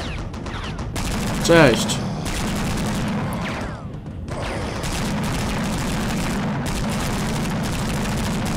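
Heavy, sustained gunfire and explosions from the Vietnam War shooter game Marine Heavy Gunner: Vietnam, loud and near, with someone briefly talking over the din.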